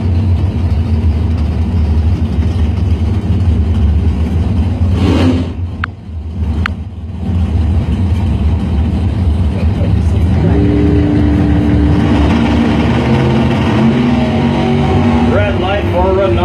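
Drag race cars, a 1990 Chevrolet Beretta against a 1978 Chevrolet Monza, idle and rumble at the line, then rev up loudly. A track announcer talks over the continuous engine noise.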